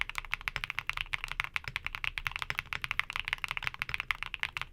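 Rapid typing on a mechanical keyboard with KeyGeek Peachy linear switches, a dense, even stream of crisp, clacky keystrokes recorded close and alone, with no talk.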